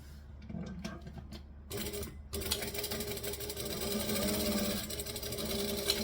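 A sewing machine stitching fabric, starting with a few short stop-start bursts and then running in a steady, fast, close mechanical whir, with no talking.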